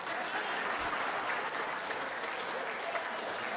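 Audience at the Essca Canada conference in Saskatoon claps steadily throughout, a dense, even wash of applause from a large hall with no voices standing out.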